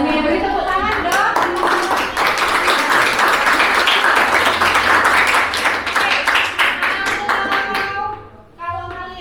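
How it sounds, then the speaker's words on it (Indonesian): Classroom applause from a group of students, dense sustained clapping for about eight seconds, loud and close, with a few voices mixed in before it tapers off at the end. "Oke, beri tepuk tangan dong."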